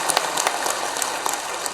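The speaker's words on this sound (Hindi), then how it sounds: "जरा एक बार ताली बजा दो" Crowd at a village gathering clapping together, a steady patter of many hands at moderate distance with no voices over it.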